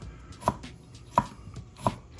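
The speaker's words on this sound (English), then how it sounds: "What you want to do, cut very thin little slices" A knife cuts thin slices of food on a cutting board, three crisp evenly spaced chops close up in a quiet kitchen.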